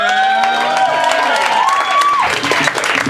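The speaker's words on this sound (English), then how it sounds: "Put your hands together. Welcome the very funny Mr. Ben Rosenfeld." A comedy club audience applauds and cheers for a comedian coming on stage, loud dense clapping with whoops and whistles, while a voice rises through the noise before it fades.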